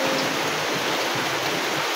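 Steady rain pours down in a dense, even hiss with no pauses, loud and close, with no voices over it.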